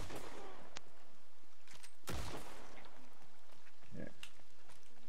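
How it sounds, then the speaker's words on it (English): Gunfire in a cowboy video game, with several sharp shots scattered across the stretch and one much louder crack in the middle, set against faint background voices. "Yeah. I hear gunshots."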